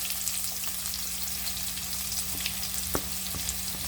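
Continuous crackling sizzle of onions frying in a hot pan, with occasional sharper pops and spatters, close and steady with no talking.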